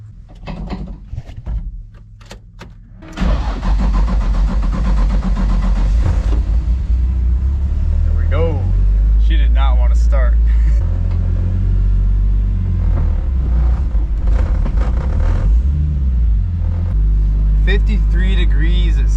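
A Nissan car left idle since a drift event cranks over, catches and then holds a loud, deep rumbling idle with brief revs. There are clanks early on and voices in the background.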